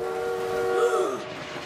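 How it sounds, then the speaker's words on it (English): Cartoon train approaching on tracks, a sustained horn-like tone over rumbling rail noise, the pitch bending down as it nears. "that train is closer than we thought"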